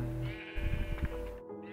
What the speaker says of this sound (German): Ach, die Schafe.